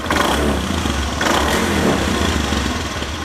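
Revving of a 2019 Honda Zoomer X 110cc scooter engine, close and loud, a buzzing motor pushed up in a couple of quick throttle bursts.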